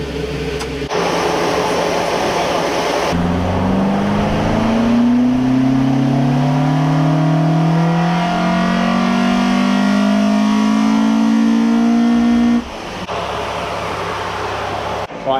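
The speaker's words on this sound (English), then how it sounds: "Chris is now playing with the exhaust cam, retarding it, which usually gives you a bit more power with an ST170 engine." A Ford ST170 engine in a Mk1 Escort revs up loudly, rising in pitch and holding at high revs for several seconds before dropping back to idle.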